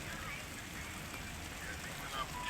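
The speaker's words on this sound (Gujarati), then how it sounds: "અટાણા ચાલુ વરસાદ છે" Rain falls in a steady, faint hiss and patter on a surface, continuous and even throughout.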